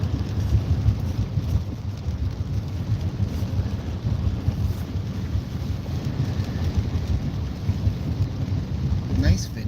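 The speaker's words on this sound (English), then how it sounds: "Look at the rain underneath the car, underneath the SUV tires." Heavy rain and low rumbling thunder heard from inside a vehicle driving through a storm in Winnipeg, a steady dense roar with occasional wind buffeting on the microphone, no talk.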